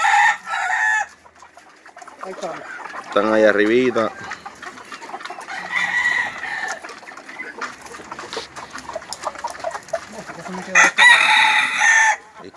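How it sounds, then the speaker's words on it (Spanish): Fighting cocks crow loudly and cluck nearby in repeated bursts, with people talking between the calls. "Ahí están los gallos que se van a sacar para jugar."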